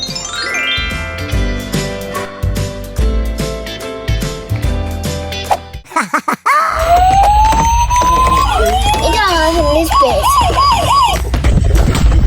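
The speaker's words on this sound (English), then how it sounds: "This is a fire truck." A toy fire truck plays a bright electronic jingle of beeping tones, then switches to a loud, close wailing siren that sweeps up and down repeatedly.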